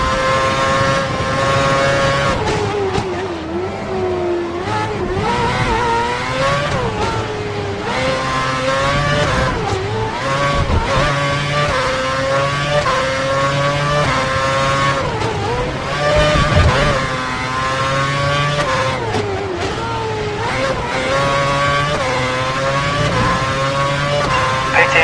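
Race cars in a video game race at the Abu Dhabi circuit, engines roaring loud and steady with rising and falling pitch as gears shift, continuous throughout.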